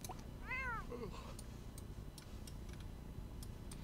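One clear, drawn-out meow from a cat in The Sims 4 rises and falls near the start, followed by a soft trailing mew and then faint ticking over low background noise.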